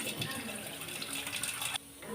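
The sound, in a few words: washing rice in water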